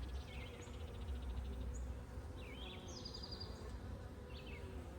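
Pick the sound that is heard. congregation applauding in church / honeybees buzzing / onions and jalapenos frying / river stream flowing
honeybees buzzing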